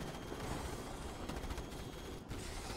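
Continuous distant gunfire and clattering combat noise from the sci-fi strategy game Starship Troopers Terran Command, a steady rattle of shots with a brief dip near the end, fairly quiet.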